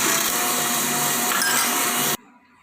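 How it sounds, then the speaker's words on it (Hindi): A blender grinds peaches with water and ice cubes, a loud steady whirring roar running for about two seconds before cutting off abruptly into near silence. "1 से 2 मिनट के लिए फिर इसको ग्राइंड करेंगे।"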